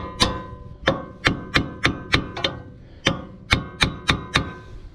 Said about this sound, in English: I'll get a hammer and I'll give this a tap and we'll see if we can get this ball joint